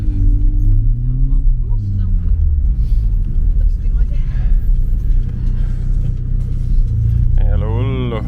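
A BMW E36 Compact driving at night, its engine a steady, close rumbling drone from start to finish, with voices talking over it.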